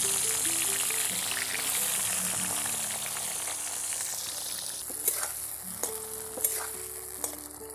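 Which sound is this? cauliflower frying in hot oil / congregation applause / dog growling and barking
cauliflower frying in hot oil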